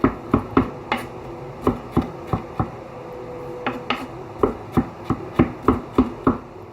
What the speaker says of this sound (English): As long as you get the job done and get it finely chopped, that's all that matters, right?